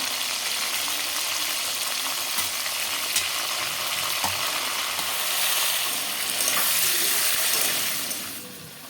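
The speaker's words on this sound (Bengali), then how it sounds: "এবার আমি খুন্তি দিয়ে ভালো করে একটু উল্টো পাল্টে নিলাম" A spatula stirs sweet-and-sour elephant apple pickle in a wok, making a continuous sizzling, scraping churn that swells slightly toward the end, with no talk over it.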